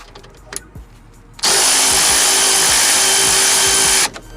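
A power tool fitted with a 21mm socket whirs loudly and steadily for about three seconds, removing a lug nut from a Dodge Challenger wheel during a rear brake pad job, after a few quiet clicks and taps.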